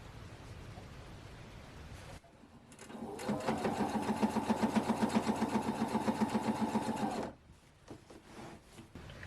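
A sewing machine starts up and stitches through a quilt top in a steady, rapid rhythmic hum for about five seconds, loud and close, then stops abruptly.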